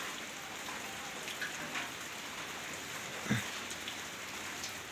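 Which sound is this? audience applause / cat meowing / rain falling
rain falling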